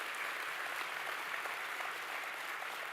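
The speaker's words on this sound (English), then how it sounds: "give them a round of applause" Sustained audience applause fills a large hall at the WSA 2025 closing ceremony, a dense, even wash of many hands clapping that holds steady throughout without a break.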